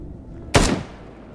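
A single sharp gunshot rings out in Stalker GAMMA, loud and close, with a short fading tail, set against a quiet low background hum.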